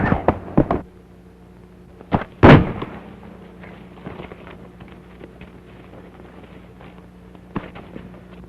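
Sharp gunshots ring out in an old 1930s adventure serial, a quick burst of cracks at the start, then one loud blast, another single shot near the end, each fading over a low hum with no talk.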